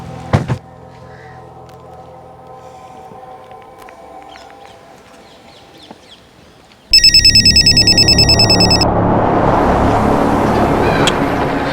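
A telephone rings with a loud, repeating electronic tone that starts abruptly partway through, after a quiet stretch of faint hum and a few soft knocks, with a broad rushing noise building beneath it.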